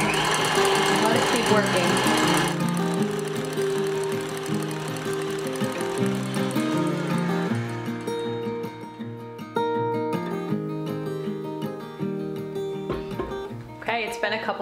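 Electric mixer whipping cream in a bowl, a steady loud motor whir with a rattling beater texture running throughout, briefly under a spoken line.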